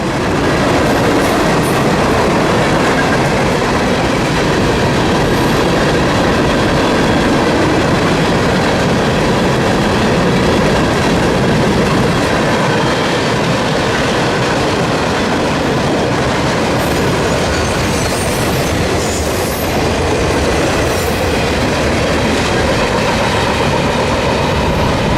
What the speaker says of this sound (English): CSX train A794 screaming south through Hilliard